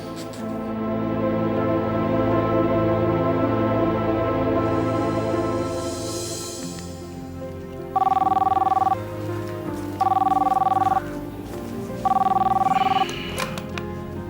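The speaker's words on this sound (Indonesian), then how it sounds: "Sigit, Tumben malam di telepon." A telephone rings at night indoors in three evenly spaced electronic bursts, loud and close. Before it, a murmur of background sound with rain-like hiss plays under a voice.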